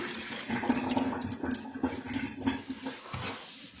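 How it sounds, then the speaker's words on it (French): A large amount of water pours from a tap into a small wall-mounted hand basin, producing a steady splashing gush with some gurgling. It is moderately loud and continuous, and no one speaks. "on fait couler une grosse quantité d'eau"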